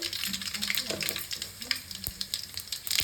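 Mustard seeds crackle and pop in about 50 grams of hot oil in a pan, a steady frying sizzle with scattered sharp bursts for a lady finger curry, close and moderately loud with a voice talking over it.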